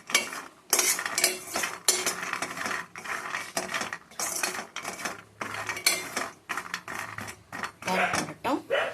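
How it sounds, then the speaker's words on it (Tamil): Raw peanuts dry roasting in a metal pan, stirred steadily so the nuts rattle and clatter against the pan in dense, repeated scrapes and clinks, close and fairly loud throughout. "இது பச்சை வேர்க்கடலை தான், அதனால கொஞ்சம் நான் வறுத்துக்கிறேன்"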